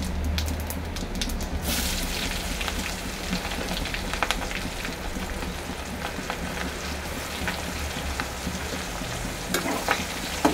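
Chopped onions frying in a pan with bay leaf and cumin seed tempering, a steady dense sizzle running close and loud throughout with no talk.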